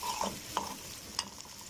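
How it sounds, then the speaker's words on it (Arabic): Quiet, steady sizzling of onion frying in ghee, with a few soft stirring scrapes breaking through. "قطعت بصلاية وحطيتها في معلقتين سمن كده"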